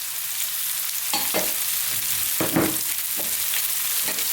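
Carrots and celery hit a wok at maximum heat for a vegan Chinese vegetable stir-fry, giving a loud, constant sizzle broken by several quick scraping bursts of stirring.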